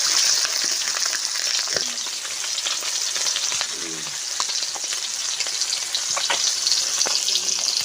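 Fish sizzles as it fries in mustard oil in a wok, a loud, steady, close crackle and hiss that runs throughout with occasional stirring clicks and no talk.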